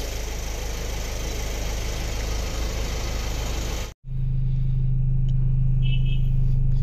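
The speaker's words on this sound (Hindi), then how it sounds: "तो गाड़ी स्टार्ट करिए थोड़ी देर" A car's engine catches after a steady broadband rumble cuts off for a moment, then settles into a low, even idle hum, close by and alone without talk.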